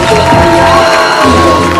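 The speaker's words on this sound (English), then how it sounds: "give him a round of applause" Wedding guests cheer and shout in a lively burst, a loud dense crowd roar with whoops and a few high voices mixed in, brief and close.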